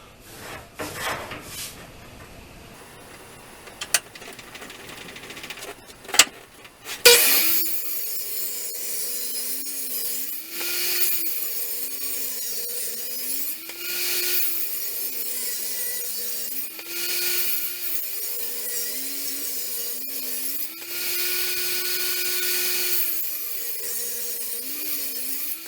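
A table saw rips wood into half-inch strips, its loud steady whine rising and falling in pitch as each board feeds through, after a few clunks and handling knocks at the start.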